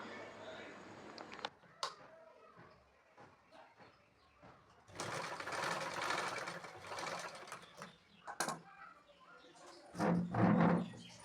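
A sewing machine stitches fabric for a long puff sleeve in bursts of close, rattling whir separated by pauses, with a pigeon cooing and faint background noise.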